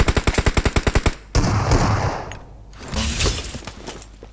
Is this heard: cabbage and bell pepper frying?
no